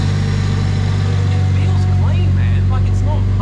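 A BMW N54 car engine running just after firing up, a loud, steady, deep hum that holds throughout, with a voice briefly heard over it.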